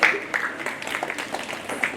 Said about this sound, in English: encourage the participants with a big round of applause